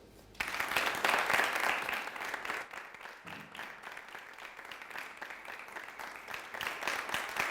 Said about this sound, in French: je vais vous demander de faire beaucoup d'applaudissements pour Desco Premier.